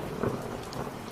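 A brief, steady wash of heavy rain with a low rumble underneath, no voices.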